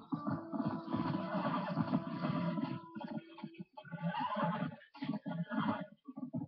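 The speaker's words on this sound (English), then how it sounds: "My horse is out of breath." A video game horse whinnies loudly and at length, then breaks into shorter neighs and snorts while hooves clop underneath, all close and clear.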